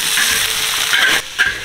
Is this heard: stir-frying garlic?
yes